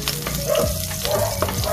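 Chopped onion frying in hot oil in a pan just used for frying pork, a steady dense sizzle with faint stirring scrapes, continuous and close with no talking.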